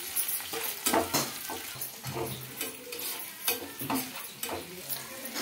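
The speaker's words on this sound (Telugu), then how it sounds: "అలాగే అల్లం ముక్కలు వేసుకోవాలి. ఇవి కూడా కొద్దిగా ఫ్రై అవ్వాలి." Green chili and ginger pieces fry with onions in a pan, a soft continuous sizzle punctuated by repeated spoon scrapes and stirring knocks, close and fairly quiet, no voices.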